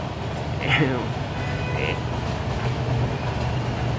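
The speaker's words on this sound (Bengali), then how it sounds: "আপনারা একটু খেয়াল করুন ট্রেন যাচ্ছে" A steady rumble of a passing train close by, with a brief horn-like tone, while a person speaks over it.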